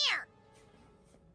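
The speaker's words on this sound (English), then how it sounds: "Oh, that's the cat." A Minecraft cat lets out one loud, close meow at the very start, followed by faint game ambience and distant soft sounds.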